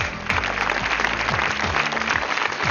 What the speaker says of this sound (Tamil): சுபத்ரா மேடத்துக்கு நல்ல கைத்தட்டல்.